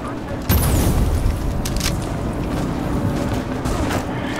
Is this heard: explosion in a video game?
yes